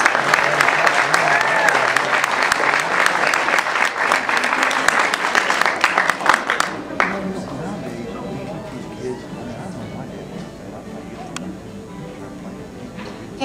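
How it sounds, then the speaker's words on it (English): At a banjo awards event, a crowd gives a round of applause for about seven seconds, dense and fairly loud, then it fades into quieter room noise with a voice speaking. "please give another round of applause."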